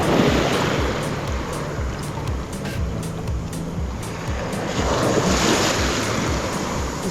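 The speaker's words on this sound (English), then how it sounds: "the waves are getting a little bigger" Ocean surf rolling onto a Gulf of Mexico beach at Pass-A-Grille after Hurricane Idalia, steady and fairly loud with wind buffeting the microphone.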